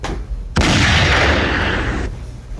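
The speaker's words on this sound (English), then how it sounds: "Let me put a gunshot on that thing real quick." A gunshot sound effect is dropped into a podcast, a single loud close blast that cuts in sharply, rings as a broad roaring burst for about a second and a half, then stops abruptly.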